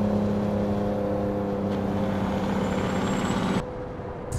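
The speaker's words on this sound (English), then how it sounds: "we can actually open up that Jake brake" Jake brake engine braking on a heavy truck in American Truck Simulator, a loud sustained low rumbling drone with steady harmonic throb and rising whine, continuous for several seconds before dropping off abruptly near the end.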